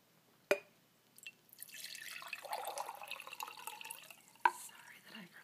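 A pomegranate drink is poured in a quiet indoor role play, opening with a sharp glass clink, then a steady liquid trickle for a couple of seconds, ending with another clink.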